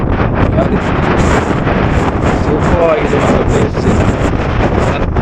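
Strong, steady wind roars and buffets the microphone on the hilltop of Gavi Betta during an offroad trip, loud and continuous for the whole stretch, with no pause or letup.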